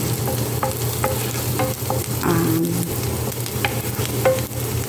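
Eggplant cooking in a pan for tortang talong, with steady frying sizzle and a few stirring scrapes and clinks throughout, close and fairly loud, no talk.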